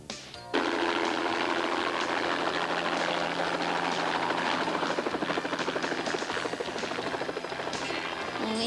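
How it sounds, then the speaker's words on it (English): A helicopter bringing supplies to a jungle village thumps steadily and loudly overhead after a brief quieter moment, its rapid chopping filling the air without letup. "When we have a lot of supplies to bring to the village, we use a helicopter."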